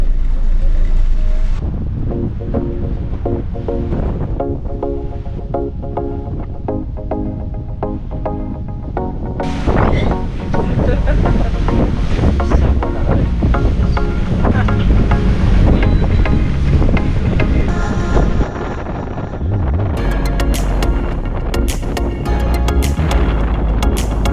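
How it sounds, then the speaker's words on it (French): Strong wind roars across the microphone aboard a cruise ship at sea, with rushing water and boat noise underneath and a voice speaking intermittently. "C'est pas mieux pour le vent là, et la nuit il rentre pas plus fort là."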